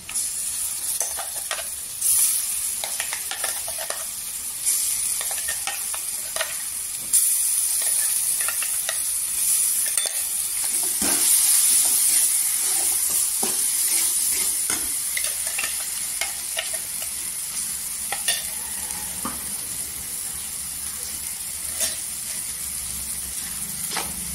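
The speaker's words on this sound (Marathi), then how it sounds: "छान असं तेलावर परतून घ्यायचं" Steady sizzling of a thick, freshly ground masala paste frying in oil for an egg curry, with repeated stirring scrapes and clinks throughout, close and fairly loud, no talking.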